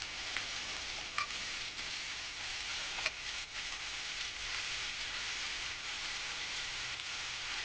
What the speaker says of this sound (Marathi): मशरूम तेलामध्ये थोडंसं फ्राय करून घ्यायचं आहे आपल्याला